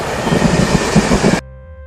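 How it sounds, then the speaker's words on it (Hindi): A passing train rumbles loud and close with a rhythmic clatter of wheels, then cuts off abruptly into near silence. "ये है ट्रेन। ट्रेन को हिंदी में रेलगाड़ी कहते हैं।"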